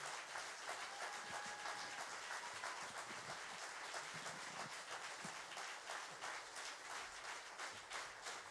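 An audience applauds at the end of a tribute band concert, with dense, continuous clapping that sounds slightly distant and holds at an even level throughout.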